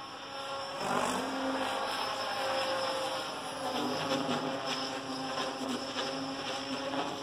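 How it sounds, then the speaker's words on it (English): A Diabolo 600 RC helicopter buzzes steadily overhead in windy conditions, a continuous whining drone like an angry bee that holds at a constant level throughout, with no speech. "This thing sounds like an angry bee in the sky."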